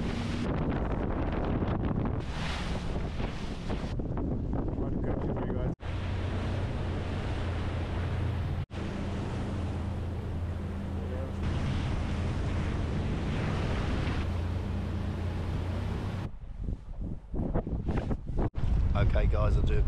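Heavy wind buffets the microphone on a boat, a constant roaring rush with water noise beneath, cut by a few abrupt breaks and gusts.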